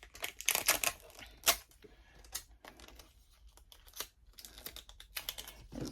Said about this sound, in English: Take my tape and put it right here